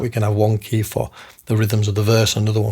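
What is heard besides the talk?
No everyday noise stands out behind the speech.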